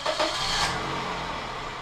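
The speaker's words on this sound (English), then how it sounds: "let's get this car down off of the ramps" A car's engine idles and moves slowly as it is driven down off service ramps after an oil change, a steady broadband rumble and hiss at moderate level, fairly close, with no talking.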